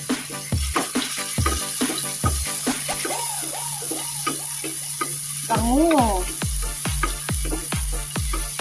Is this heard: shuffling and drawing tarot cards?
no